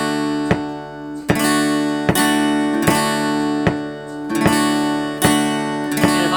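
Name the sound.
guitar strumming pattern against double-time metronome click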